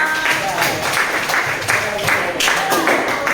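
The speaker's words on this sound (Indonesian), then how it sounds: "Beri tepuk tangan dulu" A classroom group claps together in a brief burst of applause, a brisk uneven patter of many hands, with children's voices chattering over it.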